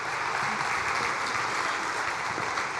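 Audience at a church family gathering applauding, a continuous even roar of many hands clapping throughout, close and full, with no pauses.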